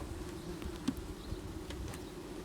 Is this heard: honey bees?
yes